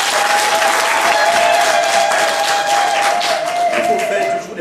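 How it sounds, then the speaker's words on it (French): Dense audience applause fills a ceremony hall at an International Widows' Day event in Cameroon, loud and steady throughout before tapering off at the very end, with a sustained tone running beneath the clapping. "Donc vous pouvez applaudir pour vous."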